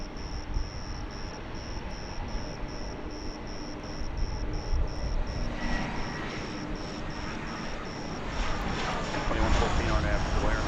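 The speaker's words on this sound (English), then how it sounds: "quick takeoff" A jet airliner takes off from DFW Airport, its broad engine roar building steadily louder over about ten seconds, with a repeating high electronic beep sounding throughout and faint talk mixed in.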